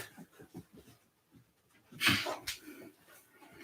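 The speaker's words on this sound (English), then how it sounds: "There's my dog. She snuck in to the house." A dog indoors in a house breathes and pants softly in quick rhythmic puffs, then gives a louder sharp snort or sneeze-like burst midway with faint whimpering, close by and quiet overall.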